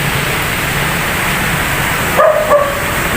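A dog gives two quick barks near the end, close and sharp, after a stretch of steady outdoor background noise under a bridge.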